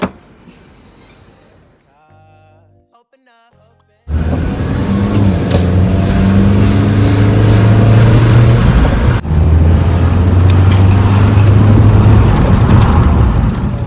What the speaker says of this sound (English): Welding the diverter valve didn't work, so it's still making that really high-pitched sound